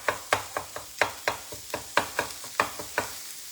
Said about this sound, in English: So I'm going to give my sausage a scramble.